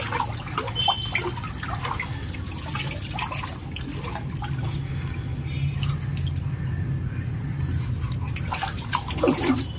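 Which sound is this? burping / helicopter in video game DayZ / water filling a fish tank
water filling a fish tank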